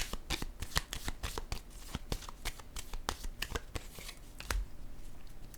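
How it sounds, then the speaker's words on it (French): Tarot cards are shuffled and drawn by hand, giving a busy, close flurry of rapid riffling and flicking slaps that continues throughout at a brisk, uneven rhythm. "Je vais piger une autre carte."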